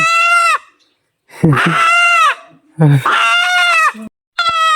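A chicken being caught and held gives loud, harsh squawks in three long bursts with short pauses between, close up and frantic, ending with a brief clipped squawk.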